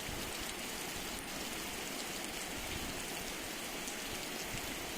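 Heavy rain pours down continuously, a dense steady hiss of drops drumming on surfaces close by.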